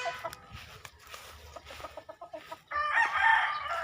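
A Hapon ng Cogon gamefowl stag clucks in a quick series of short notes, then lets out a loud, drawn-out crow near at hand in an open-air backyard.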